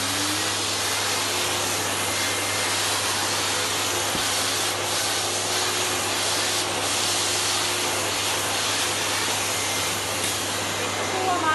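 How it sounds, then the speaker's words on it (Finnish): A steam cleaner working over a woven textile tablecloth hisses in a steady, loud, unbroken rush, with a constant low machine hum beneath it and no pauses. "Niin lähdetään vaan höyryllä pesemään."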